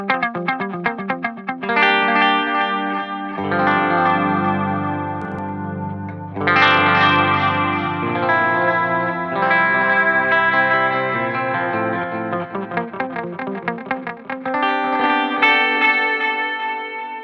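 Electric guitar chords ring out through an Axe-Fx 3 2290 delay in modulation mode, a wide, shimmering stereo delay with chorus-like wobble and echoing repeats trailing each strum.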